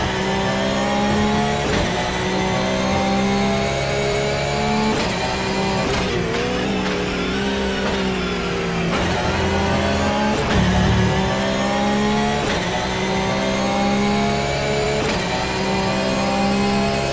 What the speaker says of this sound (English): They really love the sound of the Porsche.